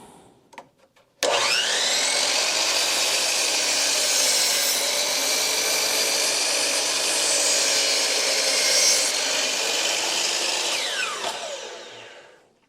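A DeWALT DWS780 dual-bevel miter saw runs through a clamped wood cut, a loud steady whine starting abruptly after a brief quiet moment, holding close and even for about ten seconds before spinning down.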